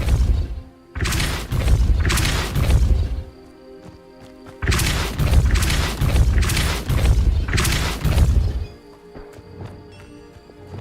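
Spellcasting in Hogwarts Legacy, heard as repeated heavy booming bursts with crashing thuds in two loud clusters, separated by quieter gaps of game ambience.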